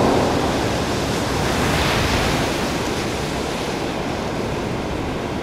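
Waves of the East Sea surge in a steady, broad wash of surf, loud and continuous with a windy rush and no voices.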